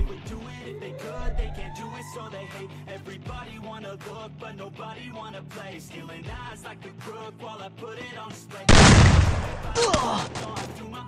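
Gunfire in the Free Fire battle-royale video game: repeated sharp game gunshots come from the first seconds, ending in a loud close burst of blasts. A player talks over much of it.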